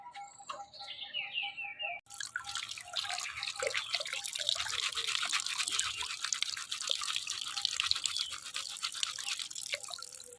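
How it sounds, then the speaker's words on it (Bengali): Small cleaned fish are washed in water in a village kitchen, giving continuous close splashing and rubbing with drips, while birds chirp faintly in the background. "তো মাছ বানানো হয়ে গেল, এবার ধুয়ে নিয়ে চলে আসি আপনাদের কাছে।"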